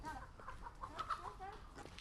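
Chickens at a home cluck repeatedly nearby in short, uneven bursts, mixed with other hens and a soft background of outdoor noise.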